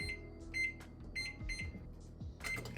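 Microwave oven keypad beeping as buttons are pressed, several short electronic beeps in an irregular sequence, fairly quiet in a kitchen.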